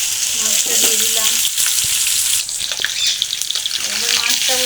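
Fish dropped into hot oil sets off a loud, crackling sizzle, with a few utensil clicks and taps and a brief dip before the frying surges again.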